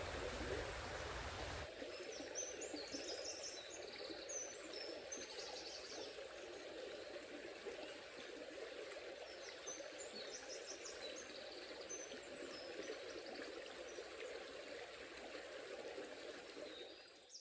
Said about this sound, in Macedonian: За среќа тука е преубавата река